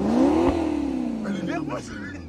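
Car engine revving hard, a loud rising roar that peaks and then drops away, followed by a lower idle as excited voices speak over it.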